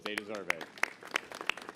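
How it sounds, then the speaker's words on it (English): Scattered applause breaks out at a mayoral press conference in New York, a few sharp distinct claps under and after a man's short spoken remark. "Give them a big round of applause."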